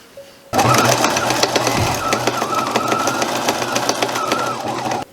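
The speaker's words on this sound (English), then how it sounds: "I'm now going to top stitch around the edge of the mask twice." A sewing machine runs steadily and up close as it top stitches around the edge of a fabric face mask, a continuous mechanical whir with a rapid needle rhythm that starts abruptly and carries on alone.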